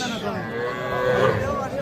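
Calves, young bulls and heifers moo at a busy cattle market, the lowing loud and close and overlapping continuously, with crowd noise in the background.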